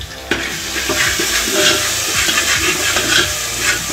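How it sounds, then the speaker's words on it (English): Food being stirred in a cooking pot with butter in a jungle camp cookup, a continuous wet sizzling hiss with soft scraping and bubbling, close and fairly loud. "We stir that bad boy up there."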